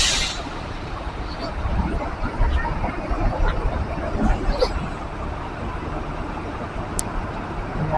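Buses idling and queueing for diesel at a roadside fuel stop in Kota Pinang, North Sumatra, with a steady rumble of engines and traffic throughout and faint clatter and hiss in the background.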